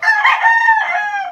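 An Asil rooster crows once in its pen, a loud, close, drawn-out call lasting over a second.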